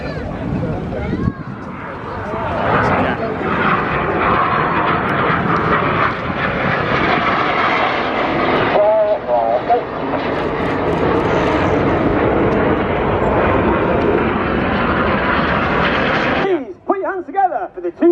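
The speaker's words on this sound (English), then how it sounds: "Together for the 2025 Royal Air Force Aerobatic Team. It is the Red Arrows!" Red Arrows RAF aerobatic jets fly a display at the Eastbourne Airborne 2025 seaside airshow, their loud, sustained roar passing overhead for most of the clip before dropping away sharply, with voices and crowd murmur underneath.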